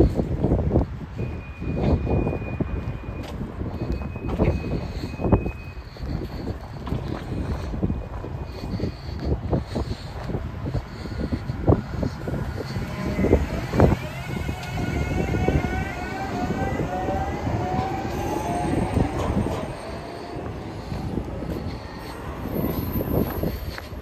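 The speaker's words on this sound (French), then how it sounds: "Voilà le tramway numéro 10." Tram line 10 rumbles into a stop with steady rail clatter and motor hum, rising whine and squealing brakes toward the end, loud and close, with no voices over it.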